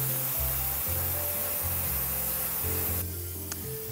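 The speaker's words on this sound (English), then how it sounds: "So with that grease on there now, you can use chain cleaner. And I've got some fast-acting degreaser." Fast-acting degreaser is sprayed onto a motorcycle chain in short hissing bursts, each stopping and starting again over a few seconds. The bursts are close and fairly quiet against a low background rumble.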